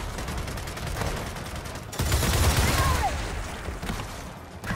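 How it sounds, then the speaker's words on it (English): Turret gunfire in the video game Gears of War 4 comes as dense, rapid bursts of shots, heaviest in the second half, with battle noise throughout. "Yeah, use the turret."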